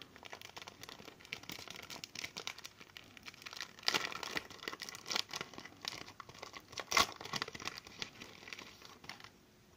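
Paper crinkling and tearing as a greeting card envelope is opened by hand, close and moderately quiet, with a steady rustle broken by a few sharper rips, no talking.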